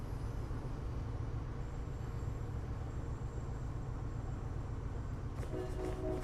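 A CSX freight train rolls past in the Train Sim World simulator, giving a steady low rumble of wheels and engine throughout, with a brief horn-like tone near the end.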